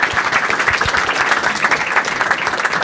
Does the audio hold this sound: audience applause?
yes